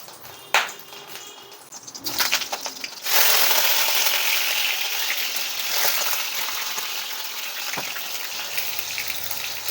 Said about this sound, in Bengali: এবার আমি এর মধ্যে পটলগুলো ভেজে নেব।